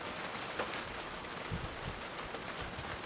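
Rain falls steadily outdoors as a soft, fairly faint hiss with scattered drip patters, and a few low bird coos are heard faintly in the background.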